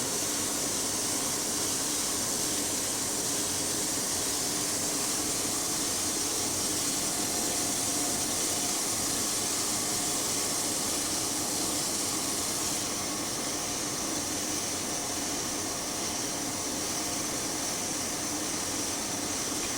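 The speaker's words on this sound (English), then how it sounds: "Now I have to steam for 7 to 10 minutes." A steamer cooking prawn rolls gives off a steady, continuous steam hiss with a soft whooshing roar, even in loudness throughout and heard alone with no talking.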